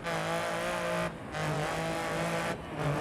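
Lancia Stratos rally car in Dirt Rally, a mid-mounted Ferrari V6, drones loudly and steadily, dropping out briefly twice as gears shift, with no talking over it.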